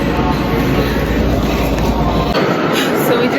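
A train rolls along the rails with a loud, continuous rumble and roar, a steady low drone that drops away near the end.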